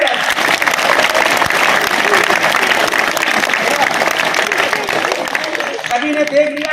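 Loud, continuous applause from a school crowd cheering a strongman's stage show, a thick steady wall of clapping that thins slightly near the end as voices rise.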